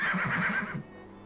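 A horse neighs in the village-building game Farthest Frontier, a single close, clear whinny with a wavering rise and fall lasting under a second, then quiet.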